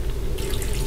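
A bathroom water tap in a video game turns on and runs, a short burst of hissing, splashing flow that starts abruptly and continues to the end.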